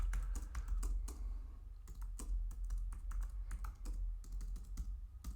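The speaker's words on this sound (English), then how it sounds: "If I can type." Fast, uneven clatter of keys being typed on a computer keyboard while entering code in a browser console, close and fairly quiet, with short pauses between bursts and no talk.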